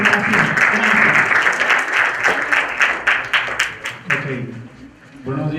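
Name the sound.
audience applause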